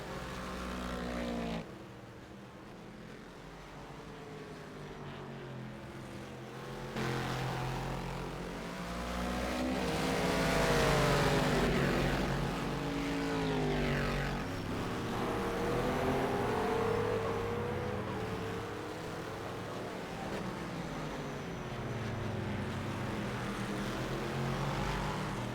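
Race car engine in an endurance racing sim at Bahrain, accelerating out of a corner: a steady loud engine drone that rises and swells in pitch through the gears over about twenty-five seconds, with no voices.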